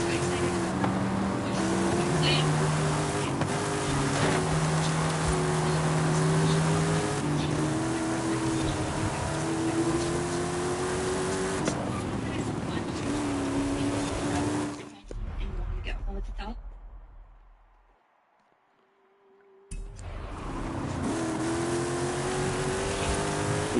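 A McLaren's engine droning and shifting gears while racing in Forza Horizon 5, steady close engine tone with rising pitch sweeps, a sudden quiet gap near the end, then the engine resumes.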